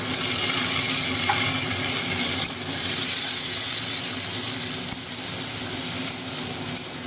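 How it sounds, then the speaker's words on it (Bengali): Fried onions and chopped tomato sizzle loudly and continuously in a pan at close range, with a few faint clicks and scrapes of stirring over the hiss. "পেঁয়াজটা ভাজা হয়েছে এবার আমি এর মধ্যে এই যে টমেটো কুচি এই টমেটো কুচিটা দিয়ে দেবো"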